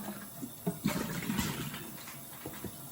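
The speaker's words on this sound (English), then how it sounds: "So I'm just running water in there, and then I'm closing it and I'm spraying it out to clear out the bottle" Water runs and splashes into a spray bottle being rinsed out, a soft, uneven gurgling that comes and goes in short bursts, faint and close.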